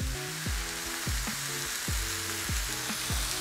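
Kangaroo mince frying in a pan, a loud, constant close-up sizzle with regular tonal thumps and scrapes underneath, no voices.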